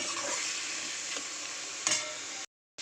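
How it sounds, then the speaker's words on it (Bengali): Onion fries lightly with chicken in a pan, producing a steady hissing sizzle with a couple of stirring clatters before it cuts off abruptly near the end. "পেঁয়াজটা দিয়ে হালকা একটু ফ্রাই করে নেব।"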